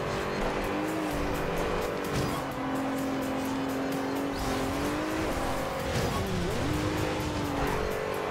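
Tires squealing on a racing car in the Forza Horizon 2 video game as it takes a wide turn at speed, a sustained wavering screech over a steady engine roar throughout.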